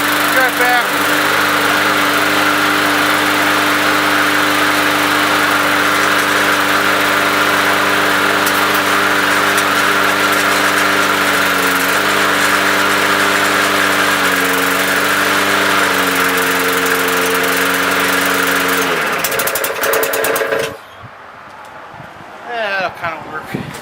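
A lawn mower engine runs steadily and loud at close range for about twenty seconds with a constant droning hum, then cuts off abruptly, leaving quiet rustling.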